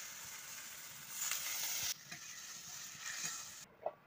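Water poured onto spice paste frying in oil in a pan for cauliflower kofta curry gives a steady, close sizzle with brief surges and stirring scrapes, ending in a short clatter.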